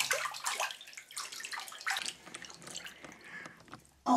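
Water splashing and dripping in a bathtub during a bath, a soft, close, uneven sloshing that ends with a brief louder splash.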